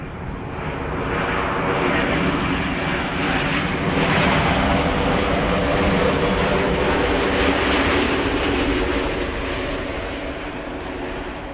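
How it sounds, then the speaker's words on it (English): KLM Boeing 787 Dreamliner arriving from Cape Town at Amsterdam Schiphol, a loud, steady jet roar that swells in the middle and eases off toward the end, heard alone. "This is KLM Flight 598, arriving from Cape Town, 7879 Dreamliner."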